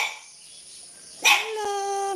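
A chihuahua gives a single sharp yip close by, followed by a sustained whining tone over a faint background.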